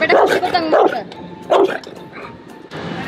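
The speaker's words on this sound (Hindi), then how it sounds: "किसी ऑटो में भौंक रहा है" A Rottweiler barks at an auto rickshaw, loud close barks in short bursts with pauses between them, and some whimpering and yipping is also heard.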